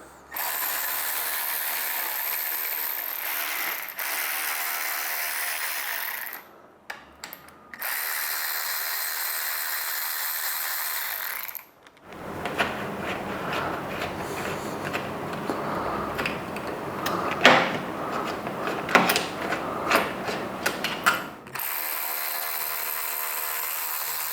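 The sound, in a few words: ratchet removing slider on BMW S 1000 RR motorcycle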